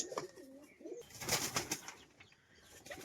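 Pigeons, a pair kept for sale, coo near the microphone, with bursts of wing flapping breaking in and out across a few seconds, no talk.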